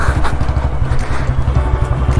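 A Royal Enfield motorcycle riding along at speed, its engine a loud, close, steady low thumping drone with wind rush over it.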